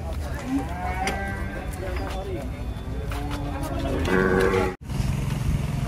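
Giant contest cattle low and moo several times while being unloaded from an old truck amid a busy outdoor scene, with steady engine rumble and people talking throughout.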